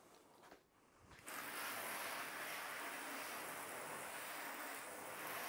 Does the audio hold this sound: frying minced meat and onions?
no